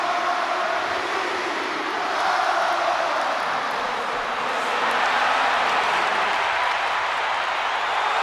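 A packed wrestling arena crowd in the WWE 2K26 video game roars and cheers in a dense, continuous wall of noise that swells slightly for a CM Punk entrance, with no commentary heard.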